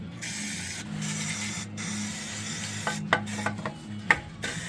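Fluid Film black undercoating hisses steadily from a spray can onto the body and seams of a 1994 Chrysler Town & Country van, close up, with a few clicks and sputters near the end.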